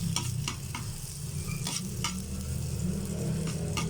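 Chili peppers sizzle and crackle in a hot frying pan while cooking adobong kangkong, with steady frying hiss and a few sharp stirring scrapes.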